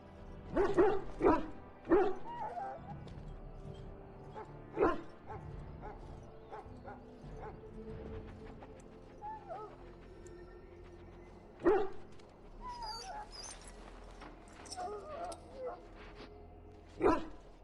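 Dog barking and whimpering in the Dragon Age Origins video game: several sharp barks up front, then scattered yips and soft whines, with quieter barks later, set against a low game ambience.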